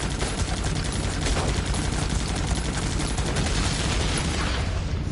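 Mortar and machine gun fire in the mobile strategy game Battle Ages, a dense, continuous rattle of rapid shots with occasional heavier thuds, steady and loud with no speech.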